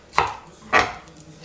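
A knife roughly chops mango on a cutting board, two sharp, close thuds about half a second apart against quiet surroundings.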